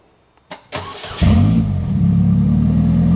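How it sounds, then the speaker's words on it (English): A custom four-seat, four-wheel Slingshot car engine cranks with a few brief clicks, catches quickly and settles into a loud, steady running roar with a slight rev, close by and with no talking. "It fires right up."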